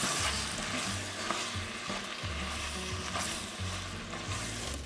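A taco mixture with drained chili beans being stirred in a hot pan, giving a steady sizzle and frying hiss with repeated scraping strokes of the spoon, close and without talk.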